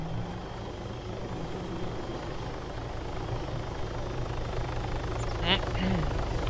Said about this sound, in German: Mach an den Heli.